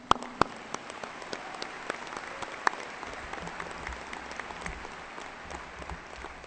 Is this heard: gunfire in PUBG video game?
no